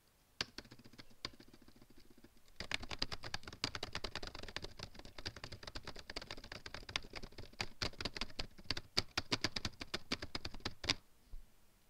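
Rapid, uneven typing on a computer keyboard, close and fairly quiet, with dense clusters of key clicks and short pauses running throughout and stopping near the end.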